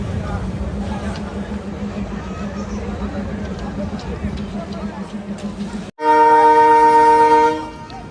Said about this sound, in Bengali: আর আমাদের ট্রেনটি এখন নগরকান্দা রেল স্টেশন ছেড়ে যাচ্ছে